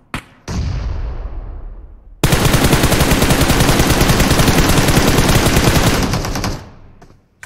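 Sustained automatic gunfire in the battle royale game BGMI, a brief burst and fading tail followed by a long, loud, rapid stream of shots that cuts off, with a final pop at the end.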